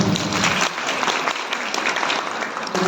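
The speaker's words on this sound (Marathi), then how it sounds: "सर्वांसाठी एकदा जोरात टाळ्या होते." An audience of women at a motivational lecture breaks into loud, sustained applause, a dense wash of clapping close and continuous for a few seconds with no talk over it.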